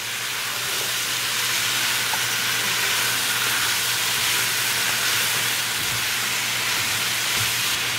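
Mushroom chicken curry fries in a pan with steady, loud sizzling and hissing that holds unbroken throughout, with no talking.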